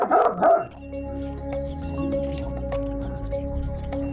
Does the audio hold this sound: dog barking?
yes